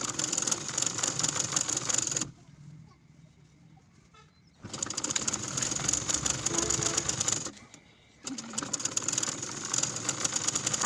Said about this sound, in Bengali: এখন আমি আরেক পাশে মধ্যে ফাঁকা রেখে আরেক সাইডে রাবারের উপর দিয়ে সেলাই করে দিব।